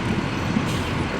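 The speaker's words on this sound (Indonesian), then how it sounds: "Ini bus Zongtong operator Damri ya Brancis" A Zongtong city bus run by Damri on TransJakarta route 14A rumbles steadily from inside, with a continuous low engine drone and road noise and no voices.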